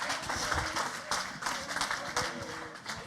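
Audience applause at the grand finale of a French-language morning TV show, a short burst of clapping from the crowd with a presenter's voice over it.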